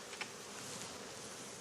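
Honey bees buzz at a hive on Réunion island, a dense, steady hum of many insects close by, with a couple of brief louder passes near the start and no speech.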